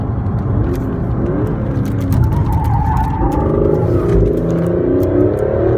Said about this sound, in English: You'll start to hear it shift down.